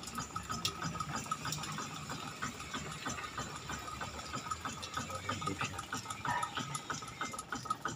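Water trickles weakly from the outlet of a ram pump, a steady splashing wash that runs continuously and moderately loud throughout, with no voices.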